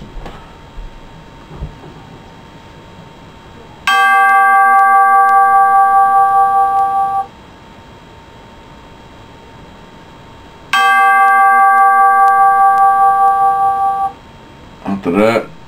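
Synthesized bell tones from Reason 5.0 software ring out in two sustained, bright chimes of about three seconds each, separated by a quieter stretch with faint background sound.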